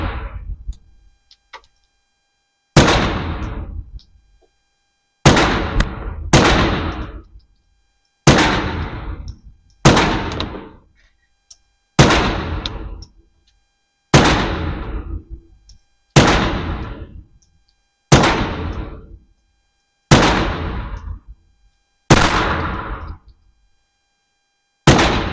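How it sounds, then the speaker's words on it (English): A suppressed VZ61 Scorpion submachine gun fired outdoors, about a dozen separate sharp cracks spaced a couple of seconds apart, each with a short decaying echo, loud and close with no talking. "we got 20 rounds of canned VZ61 Scorpion"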